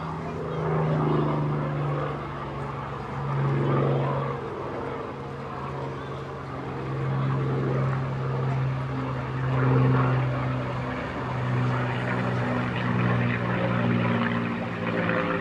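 A Lancaster bomber at an air display drones through a slow climb, its piston engines giving a steady throbbing hum that swells and fades at a distance, with no talk.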